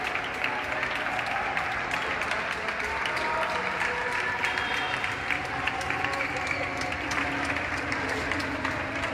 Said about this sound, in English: this is the nightly clapping for the medical workers in Barcelona that are helping with this crisis